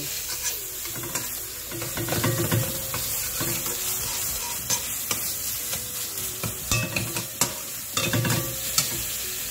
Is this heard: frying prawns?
yes